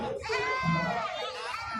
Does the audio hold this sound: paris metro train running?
no